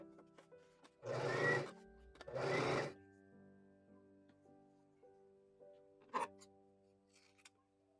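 Sewing machine stitching a neckline seam on a dress top, running in two short bursts close together, then a faint click in an otherwise quiet room.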